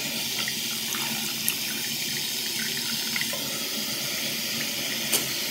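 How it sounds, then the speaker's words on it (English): A bath tap runs steadily as water pours in to fill a bathtub, a continuous close splashing hiss with a few small knocks and clinks, and no talking. "We're gonna get in the bath and we're gonna put the bath water on."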